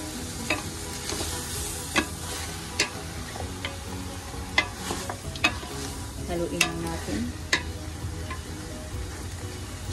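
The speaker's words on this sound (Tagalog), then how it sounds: "ihalo-halo lang natin golden brown kaunting ating chicken" Golden-brown chicken pieces (legs, wings and breast) frying in a pan for tinola, stirred with a utensil: a steady close sizzle broken by regular sharp scraping clicks, no talking.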